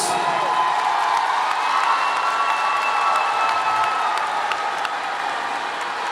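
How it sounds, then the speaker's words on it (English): At the Oak Park High School 2024 graduation ceremony, the crowd bursts into sustained applause for the parents and families. The clapping is thick, with scattered cheers and whoops, loud and even across the full length. "We applaud the parents, the aunts, the uncles"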